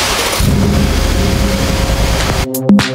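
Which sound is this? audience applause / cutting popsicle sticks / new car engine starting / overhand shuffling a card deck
new car engine starting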